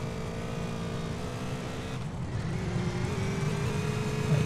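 A motorcycle in GTA multiplayer accelerates with a steady, loud engine drone that rises in intensity toward the end, heard close and continuous without talk.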